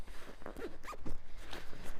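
The zipper of a backpacking sleeping bag is pulled in several quick rasping strokes close by, a brisk irregular zip with light fabric rustling around it.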